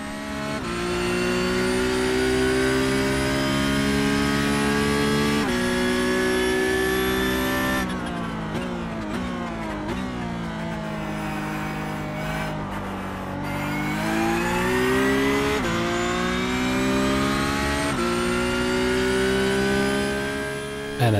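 Race car engine in a racing simulator, a loud continuous high-pitched whine that climbs through the gears, drops sharply under braking for a corner, then rises again on acceleration, with no talk.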